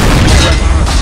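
A Leopard 2A6 tank cannon booms in the game Project Reality, a single loud, heavy blast that fills the short moment with a deep rumbling tail.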